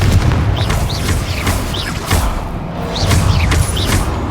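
Confringo fire-spell blasts in the Hogwarts Legacy video game, heavy booming bursts landing every half second or so within a loud, continuous din of combat.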